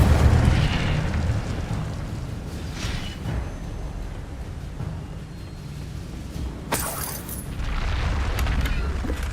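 Fire spell cast in Hogwarts Legacy on PC, a loud burst and whoosh rising over a constant low rumble, with a sharp crackling flare about two-thirds through.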